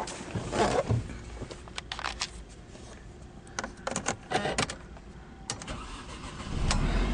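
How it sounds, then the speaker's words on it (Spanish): Mercedes-Benz C 200 Kompressor engine starting up, with a burst of cranking and clicks early, then intermittent sharp clatters and a rising engine rumble near the end. "El vehículo enciende correctamente"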